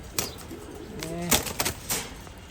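A female racing pigeon at a loft, giving a short soft cooing call among a few quick flutters and light knocks, close and fairly quiet.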